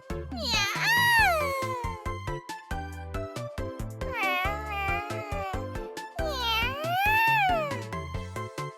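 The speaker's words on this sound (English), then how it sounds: "You are indeed a cat." A cat in the video game Café Stella gives three long, drawn-out meows with rising and falling pitch, loud and close, separated by a busy pattern of soft game sounds.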